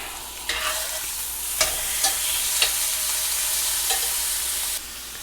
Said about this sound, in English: And then into the frying pan to sear it.